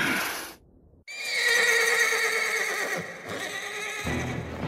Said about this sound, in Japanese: あれ馬じゃなくてロバですよね